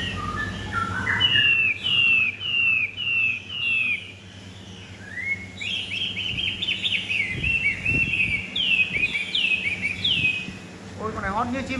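Hwamei songbirds sing loud, close whistled phrases in repeated rising and falling runs, with short pauses between bursts, over a low steady background hum.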